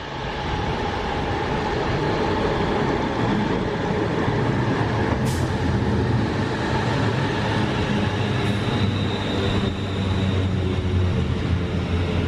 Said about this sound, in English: We're going now on the Crew train